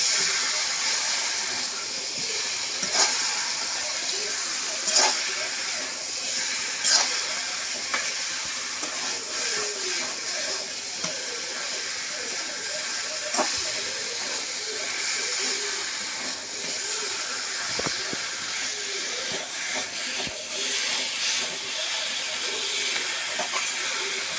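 Rooster meat is fried with spices in a pan for rezala, giving a loud, continuous sizzle and hiss with occasional sharp clinks from stirring.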